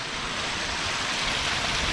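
A river runs in a rural Philippine setting where water buffaloes rest and float, giving a steady, even rush of flowing water that fills the scene at constant loudness with no voices.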